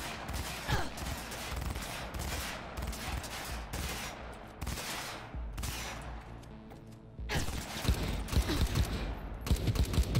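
Rapid gunfire bursts from the video game Cyberpunk 2077, with dense repeated shots and automatic fire that stay loud and close throughout, over a busy game soundtrack.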